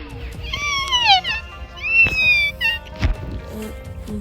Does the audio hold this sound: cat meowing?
yes